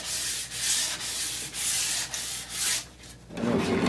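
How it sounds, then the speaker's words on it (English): Sandpaper rubbing old finish off a mahogany heirloom plant stand, a loud close hiss in repeated back-and-forth strokes roughly every half second, then a lower scrubbing at the end. "I'll go back over it with a more fine sandpaper, but I really just want to get this old finish"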